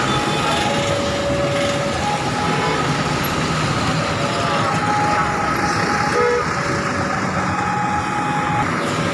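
A double-decker intercity bus passes at a busy roadside in Surabaya, Indonesia, heard as a loud continuous engine and road rumble with traffic noise filling the whole stretch.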